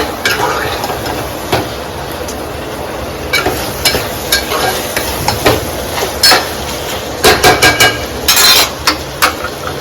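Prawns masala with curry leaves sizzles steadily in a pan over high heat. A spoon stirs it with repeated scraping clanks against the metal, close and fairly loud, and the clanks cluster more tightly toward the end.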